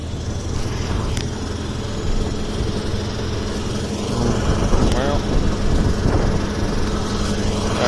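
An Oliver 1800 tractor engine revs up with no load, a steady low mechanical drone that rises slightly partway through and holds at a higher pitch.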